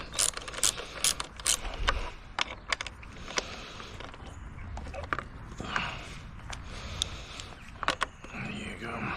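A wrench loosening a fastener gives repeated close ratcheting clicks and metallic rattles in irregular bursts over steady background noise.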